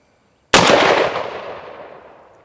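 A single loud, sharp gunshot from a Sig Sauer MCX Spear battle rifle, firing NATO M80 147 grain ammunition at a range, followed by a long ringing decay with no talk.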